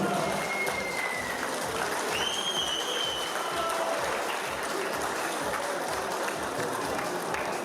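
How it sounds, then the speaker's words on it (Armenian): An audience claps steadily and loudly throughout, a dense continuous wash of applause at a live Armenian music show, with faint whistles and cheers rising over it. "Բրավո ծափերը բարձր"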